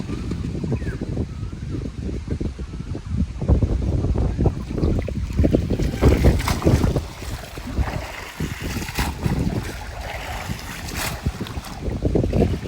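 Wind gusts across an open pond and buffets the microphone, making a heavy, rumbling roar that rises and falls unevenly and continues without letup.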